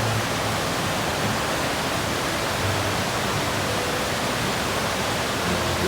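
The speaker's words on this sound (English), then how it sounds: "This is the base of another, I don't know, a stream, a creek." A creek flowing at the base of a stream near campgrounds in Cookeville, Tennessee, giving a dense, unbroken rushing hiss of water that is loud and steady throughout, with no one speaking.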